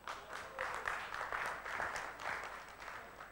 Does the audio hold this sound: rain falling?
no